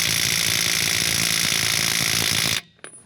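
An impact driver hammers loudly and rapidly on a Subaru CV axle, rattling continuously for a few seconds, then cuts off abruptly, leaving near silence with a faint click.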